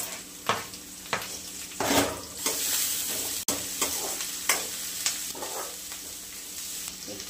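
Onion and tomato fry in a pan under repeated spatula strokes, each scrape rising above a steady close sizzle, with one sharp knock midway and no voices.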